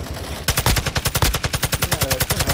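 Rapid automatic gunfire from the video game Call of Duty DMZ, a steady burst of evenly spaced loud shots running continuously after a brief quieter lead-in, with no talking.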